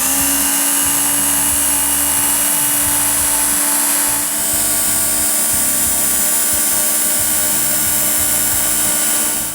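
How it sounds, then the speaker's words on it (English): A Work Sharp powered sharpener grinds the edge of a Schrade knife blade, a loud steady motor whine with a constant high grinding hiss running unbroken throughout, close up. "So my rate of pull will have a big impact on getting the whole edge sharpened."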